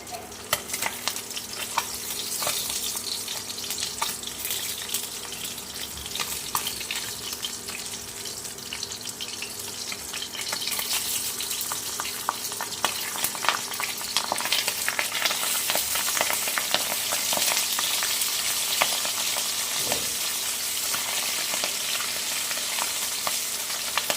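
Pabda fish fry in hot oil in a wok, a steady loud sizzle and crackle running the full length with scattered sharper pops and spits, no voices over it.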